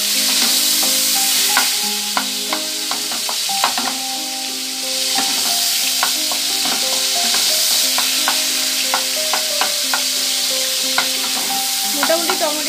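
Tomatoes stirred and frying in hot oil for a traditional Bengali koi fish dish, a steady close sizzle with frequent scraping and clinking of the spatula against the pan.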